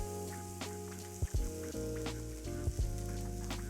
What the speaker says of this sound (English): heat some oil in the pan. And once you got it nice and hot, go ahead and add your steak